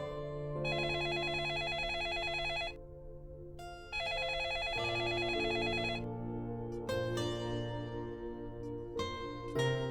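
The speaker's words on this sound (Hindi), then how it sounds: "अम्मा, फोन बज रहा है।" A telephone rings in a domestic drama scene, with bright repeated electronic ring bursts separated by short gaps over soft sustained background music.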